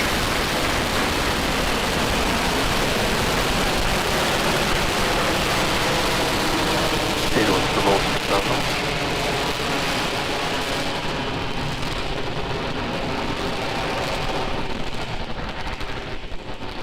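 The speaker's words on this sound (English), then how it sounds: "Falcon 9 with the Crew Dragon capsule is heading east from pad 39A" A SpaceX Falcon 9 carrying a Crew Dragon capsule climbs east from pad 39A during a launch escape test, a steady, dense, crackling roar heard from a distance that thins slightly toward the end.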